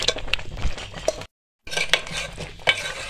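A spoon scraping and stirring thick, creamy kheer in a pot on the stove, with soft scrapes and light metallic clinks, a short pause midway, then more stirring.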